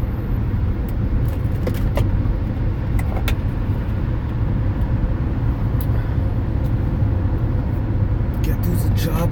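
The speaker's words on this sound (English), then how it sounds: "Come on, little Honda, get with it." A Honda car that is overdue for a tune-up drones steadily from inside the cabin while driving, with a continuous low engine and road rumble and muffled talk underneath.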